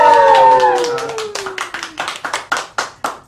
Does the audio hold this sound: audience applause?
yes